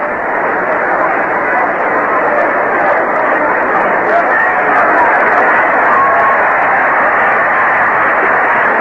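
Baseball stadium crowd at a Cubs at Mets game reacting as fans in the stands catch a ball, a loud, steady roar of massed voices and babble filling the whole stretch without a break.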